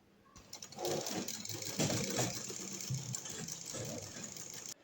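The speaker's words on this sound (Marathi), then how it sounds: "तीनही बाजूला आपण शिलाई मारून घेतलेली आहे." Domestic sewing machine runs steadily, stitching along three sides of a fabric piece for a festive sari-style cloth, a continuous close whirring hum with no talk.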